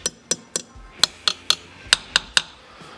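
A drill bit tapped against very dense wood gives about ten sharp, ringing metallic knocks in a quick, uneven rhythm, close and loud, with no talking.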